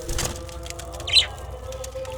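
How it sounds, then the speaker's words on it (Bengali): Small birds chirp and flutter while eating close by, a few short tweets and a brief wing flap over soft background noise. "পাখিগুলো তাড়াহুড়ো করছে খাওয়ার জন্য, পাখিগুলো ছটপট করছে খাওয়ার জন্য"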